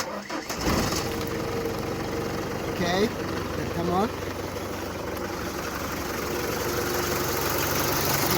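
A diesel car engine cranks on a cold morning after a hard start, catches and settles into a steady, loud idle, with someone speaking briefly over the running engine.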